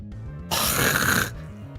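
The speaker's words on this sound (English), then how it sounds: "I don't need the random fart sounds" A comedic fart sound effect erupts suddenly, a single loud, raspy blast of about three-quarters of a second that stands alone between quieter background game music.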